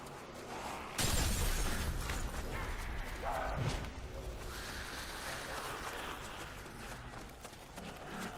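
A grenade goes off in Call of Duty: World at War, a sudden loud broadband blast that kicks in after a short quiet start and rumbles on with debris and battle noise behind it.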